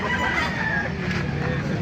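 Chickens and roosters at the Baliuag market stalls, clucking and a brief crow close by against a busy, noisy background.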